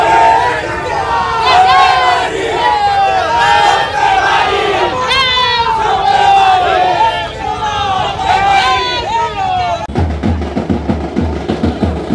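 A large crowd celebrates in the street after a prime minister's swearing-in, loud continuous shouting and chanting voices overlapping throughout, with an abrupt cut to a lower hubbub near the end.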